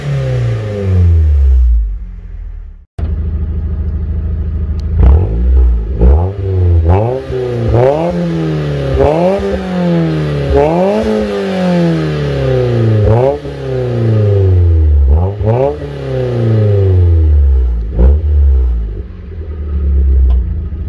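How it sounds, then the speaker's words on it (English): A Mazda Miata with a custom exhaust, ISR piping, a different muffler and a high-flow cat starts and revs repeatedly, each rise and fall loud and close, with a steady rumbling idle between pulls. "So the first setup is the ISR piping that we're reusing, plus a different muffler,"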